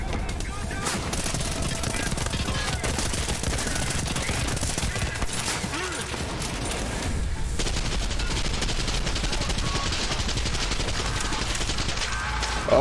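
Dense, rapid gunfire including shotgun blasts in the first-person shooter Trepang2, loud and nearly continuous for the whole stretch with barely a pause, over constant battle noise.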